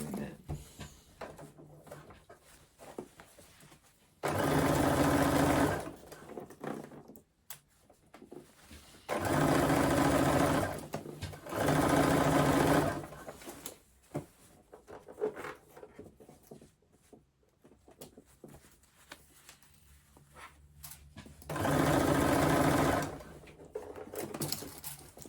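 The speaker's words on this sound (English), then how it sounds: "sew the side seam on my machine" A domestic sewing machine stitches the side seam of a crossbody bag lining in four separate loud bursts, with quieter handling noise between them.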